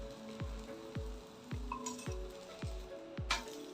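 Pearl millet dosa frying in a little oil on a pan, giving a steady sizzle with a regular series of soft low thumps and a brighter hiss near the end, close and fairly quiet with no talk.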